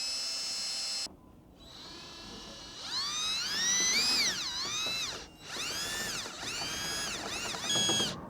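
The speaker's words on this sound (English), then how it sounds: "Now we're gonna drill a hole." A power drill whining as it bores a hole in a door, its pitch rising and falling in several bursts with brief pauses between.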